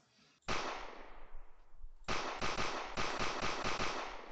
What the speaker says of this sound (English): So let's see how it sounds with the gunshot.